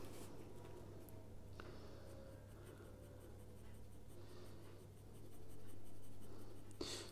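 A 2B graphite pencil shading on paper while drawing a car's wheel arch reflection, steady soft scratchy strokes running continuously, close and quiet, with a low constant hum underneath.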